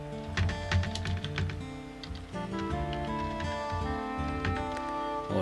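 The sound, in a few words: typing a password on a computer keyboard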